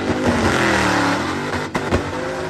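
Blown LS V8 engine revving hard during a burnout run, a loud sustained roar with a couple of sharp pops and cracks near the end.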